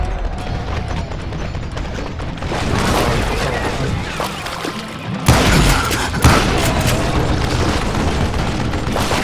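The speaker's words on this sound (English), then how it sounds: "It was then that a fusillade of bullets come raining down from all sides" Gunfire rains down from all sides in the Western shooter game Call of Juarez Gunslinger, a loud dense barrage of shots and booms, heaviest in the second half with sharp cracks over continuous rumble.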